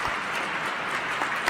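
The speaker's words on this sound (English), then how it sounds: "It's applause now for the Supreme Court justices coming in." Steady applause in the Minnesota State Capitol as Supreme Court justices enter before the governor's State of the State address: a continuous, dense wash of many hands clapping at moderate distance.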